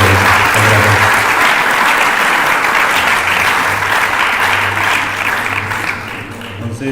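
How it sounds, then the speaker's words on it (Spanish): Dense, loud applause from an audience at a science lecture, sustained throughout and fading slightly near the end, with some voices mixed in underneath. "Vamos a darle la palabra al profesor Román, pero sin antes darle un aplauso más a él."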